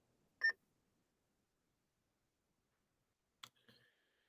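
Two short electronic ECG heart monitor beeps, one near the start and one about three seconds later, each crisp and tonal against silence.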